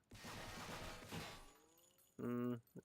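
Scar Omega rifle from the game Blackshot firing a rapid full-auto burst of close, loud shots for about a second and a half, followed by a brief tonal in-game sound.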